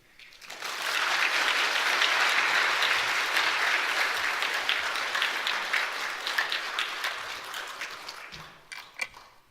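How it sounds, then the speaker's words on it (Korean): Church congregation applauding to welcome a pastor to the pulpit during a Sunday worship service, steady sustained clapping from a large room that swells quickly and tapers off near the end. "우리 환영하는 의미로 큰 박수 드리겠습니다."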